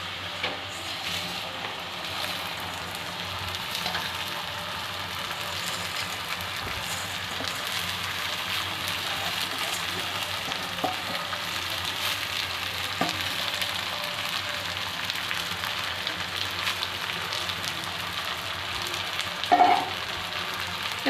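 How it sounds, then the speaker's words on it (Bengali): Washed rice and lentils frying with fried potato for bhuna khichuri, a steady close sizzle and crackle that holds evenly throughout, with an occasional stir scraping the pan. "তো আমি চাল এবং ডালটা দিয়ে দিয়েছি, এবার আমি ভালো করে ভেজে নেব"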